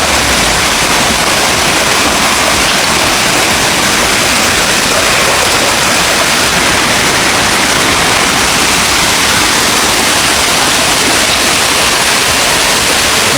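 A small waterfall roars loud and continuous close by, a dense steady rush of falling water with no speech and no breaks.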